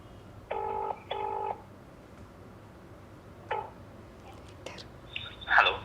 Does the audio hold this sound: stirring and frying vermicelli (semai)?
no